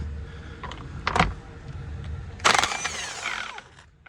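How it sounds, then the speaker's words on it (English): A cordless impact wrench with a 24mm socket spins off a loosely torqued 22mm nut on a Jeep Gladiator, with a short sharp burst and then a longer whirring run that winds down, both close by with no talk. "Now we're going to take off that 22mm nut. It's a 24mm socket. We're going to use a Ugga-Dugga."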